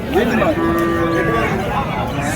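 A native cow moos at a rural cattle market in Uthangarai, Krishnagiri, with a long drawn-out low call rising and holding steady, close by over a busy background of market noise.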